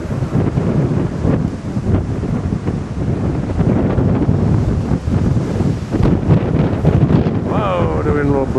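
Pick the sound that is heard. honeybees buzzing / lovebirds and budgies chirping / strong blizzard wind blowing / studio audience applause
strong blizzard wind blowing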